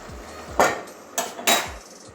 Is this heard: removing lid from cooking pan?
yes